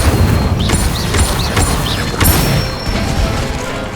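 The Incendio fire spell cast in the wizarding game Hogwarts Legacy, a loud burst of whooshing, crackling impacts over a busy combat backdrop with quick repeated magical chirps, no talk.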